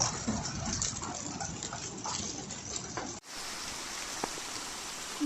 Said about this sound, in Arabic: ما شاء الله، أمطار غزيرة شبه يومية